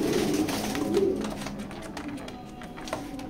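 Pigeons coo softly in a loft, a few low murmuring calls near the start that fade into quieter rustling background.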